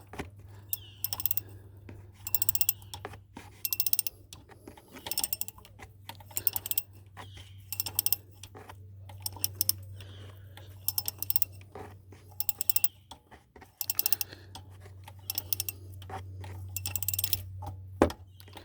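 Ratchet torquing down a short bolt on a truck, with irregular clicking and metallic ticks in bursts over a steady low hum, close by and without talk.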